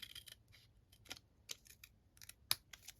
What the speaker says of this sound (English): with my snips, just going to cut this down the middle